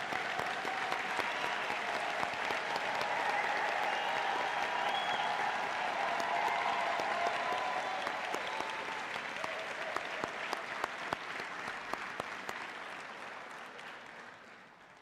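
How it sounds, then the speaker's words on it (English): A large graduation ceremony audience gives sustained, thunderous applause for the graduates, a broad wash of clapping hands filling the hall for about fifteen seconds before slowly thinning toward the end. "the graduates deserve a thunderous round of applause"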